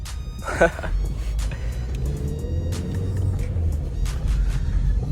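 A car being driven on the road, engine rumbling steadily and close throughout, with a brief voice early on over the drone.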